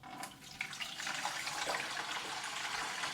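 Filtered water pours steadily into a Pinter home brewing keg, a continuous bright splashing and gurgling stream that stays close and even throughout with no voices over it.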